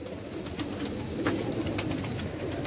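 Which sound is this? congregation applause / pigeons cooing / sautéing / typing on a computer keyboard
pigeons cooing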